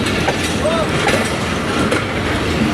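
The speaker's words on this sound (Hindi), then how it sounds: "और ये ट्रेन कराची टू लाहौर चलती है, एक ज़बरदस्त ट्रेन है" The Karachi Express passenger train runs along the rails between Karachi and Lahore, a loud steady rumble with faint wheel squeal, heard up close.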